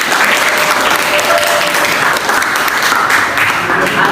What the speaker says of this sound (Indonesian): boleh tepuk tangan semua